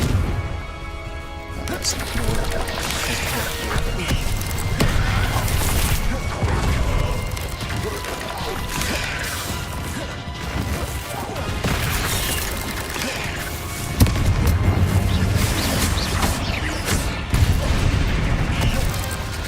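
Confringo blast spells going off in Hogwarts Legacy, a run of loud booming explosions with crashing debris over a busy game soundtrack, with a voice speaking in between.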